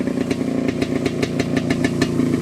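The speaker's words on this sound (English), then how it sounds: "that exhaust note for one, and the motor's super tight" A 1969 MZ ETS 250/G5 motorcycle engine idles close by, a rapid, even putter of exhaust pulses with a light mechanical clatter.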